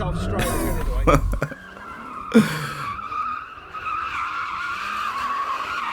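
A car skidding in a drift, with tire squeal rising and wavering over engine noise in the latter half, following a short burst of talk and noise at the start.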